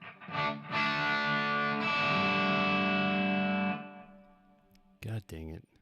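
Kiesel Tim Miller M6 electric guitar on the neck humbucker with distortion, a loud sustained chord ringing for several seconds and then fading, followed by two short chopped stabs.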